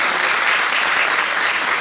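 Loud, close, dense applause from parents at a kindergarten year-end show, honoring the show's director, continuous clapping with no gaps throughout.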